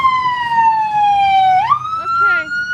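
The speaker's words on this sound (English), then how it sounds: "I decide I'll just wave and then turn my lights and siren on." A fire department vehicle's siren sweeps in a long descending wail, then jumps and warbles into a rising yelp, loud and close, with a steady background rumble.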